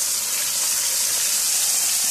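A little water goes into a gravy paste frying in a pan for soyabean and potato curry, giving a steady, close hiss and sizzle with no voices.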